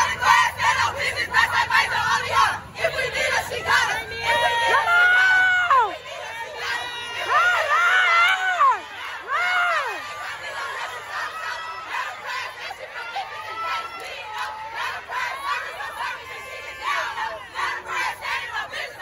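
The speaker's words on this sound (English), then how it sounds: "be mindful of the yelling and the screaming and the excitement" A crowd yells and screams with excitement at a probate event, loud shouts and cheers rising and falling throughout, with several bursts of high-pitched screaming in the middle.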